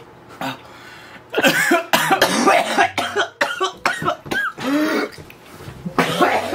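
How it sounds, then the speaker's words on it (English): Repeated harsh coughing fits during a spicy chip challenge, close and loud, with short gaps between bursts and some throat clearing. "He's coughing it up."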